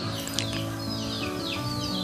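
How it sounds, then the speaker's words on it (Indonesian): Baby chicks in a box brooder peep in a steady high-pitched chorus, with many overlapping tweets forming a continuous close, bright chatter and no pauses. "proses pemindahan anak ayam dari kandang box"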